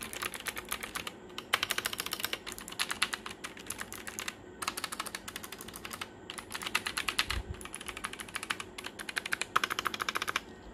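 Someone types on a wireless RGB keyboard in quick, close bursts of crisp key clicks, with short pauses between runs. The clicking is fairly quiet and there is no talk.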